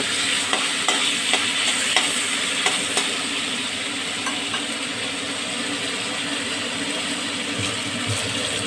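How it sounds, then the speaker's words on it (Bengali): Marinated chicken fries in hot oil with a steady, close sizzling hiss, with a few light scraping clicks of stirring early on, then constant frying noise. "তেল গরম হওয়ার পর মাখানো মাংসটাকে আমি ছেড়ে দিয়েছি এবার এইটা একটু কষতে দেবো"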